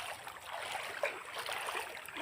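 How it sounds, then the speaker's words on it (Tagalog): A river flows with a soft, steady rushing and faint trickling, low in level and continuous, with no voices over it. "Ilog to guys, ilog."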